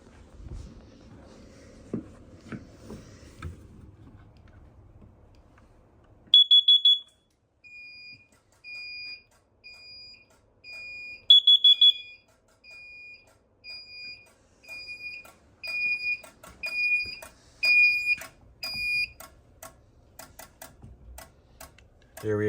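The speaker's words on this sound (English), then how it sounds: "I will set off the carbon monoxide alarm." A carbon monoxide alarm on a building fire alarm system sounds during a routine test, sharp repeated electronic beeps in bursts and a steady tone, with handling clicks and faint talk around it.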